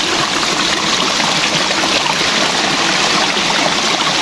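A small stream flows with a steady, close rushing and trickling of water, unbroken throughout.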